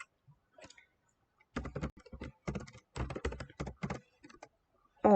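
Keys on a computer keyboard clatter in several quick bursts as a number is typed, with crisp close-up clicks separated by brief gaps.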